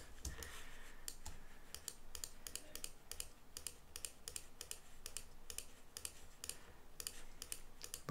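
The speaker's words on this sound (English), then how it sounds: "you're having to hear the monotonous clicking" Steady, monotonous clicking repeats throughout, quick regular taps close by with no talking, like a computer mouse or keys being pressed over and over.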